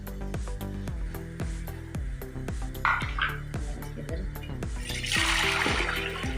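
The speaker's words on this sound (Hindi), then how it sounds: "ये 2 लीटर मैंने पानी डाल दिया।" Water poured into a pressure cooker on a kitchen stove while cooking a partridge soup, a steady stream splashing in over a repeating rhythmic background beat, growing louder and more rushing toward the end.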